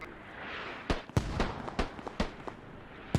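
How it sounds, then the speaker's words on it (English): Mortar rounds land danger close in the video game Squad, a series of sharp, booming impacts in quick irregular succession over a low rumbling background. "you got danger close mortar now"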